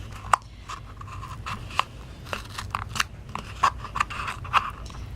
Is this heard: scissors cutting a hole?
yes